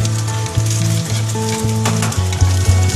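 Chili and chopped capsicum fry in a pan, with a steady close sizzle and occasional stirring scrapes. Low tonal hum bands run underneath, and no one speaks.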